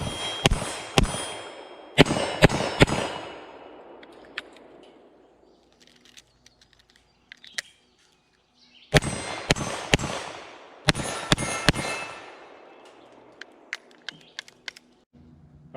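A Smith & Wesson Model 10 .38 Special revolver fired in paired shots at steel targets about 15 yards away, sharp cracks followed by ringing metallic clangs, loud bursts separated by quieter gaps with faint outdoor background.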